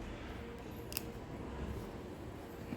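Scissors trim the fabric edge of a sewn bias-bound sheath dress, giving a soft snip near one second among low, steady room noise, with no talking.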